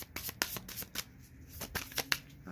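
A deck of tarot cards is shuffled by hand in a quiet room, giving a close series of soft riffling bursts and light taps, with no talking.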